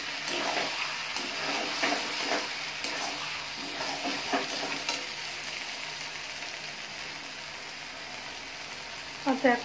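Taro stolons frying in oil, a steady close sizzle with light stirring scrapes running throughout and a brief louder clatter near the end.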